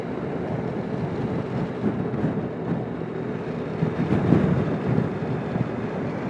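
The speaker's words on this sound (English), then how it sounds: "See how windy it is." Steady wind buffets the microphone with low rumbling gusts, swelling and easing, no voices, while riding a Suzuki Burgman scooter.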